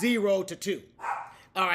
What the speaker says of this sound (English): so that's our dog. She's barking in the background.